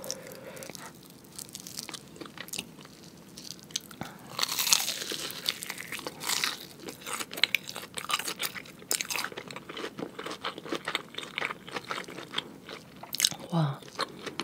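Close, loud crunching and biting as a thick, crispy-coated cheese pork cutlet dipped in wasabi is eaten, with repeated crackling bites and chewing throughout.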